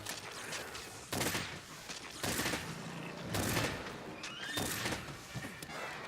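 Bowgun fire in the Monster Hunter World video game on Xbox One X, a series of heavy booming shots with thudding recoil at irregular intervals over dense game background noise, without talk.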